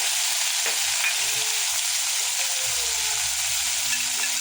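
Vinegar and sauces sizzle and fry in a hot pan while prawn chilli cooks, a steady crackling hiss with a few stirring scrapes, close up and without talk.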